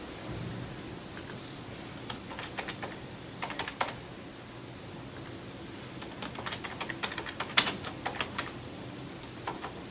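Keys on a computer keyboard are tapped in quick, irregular bursts while a password is entered during a Windows 10 install on a newly built PC, clear and close with short pauses between runs.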